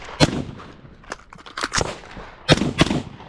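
An MK18 rifle fires at a range during a reload and transition drill, with sharp close shots in uneven bursts: two early reports, a quick cluster in the middle and a final pair.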